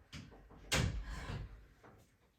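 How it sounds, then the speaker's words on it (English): A door is pushed shut indoors, giving one soft thud in the middle of the clip amid low shuffling and handling noise; no talk is heard. "Pardon me for 1 second while I close this door."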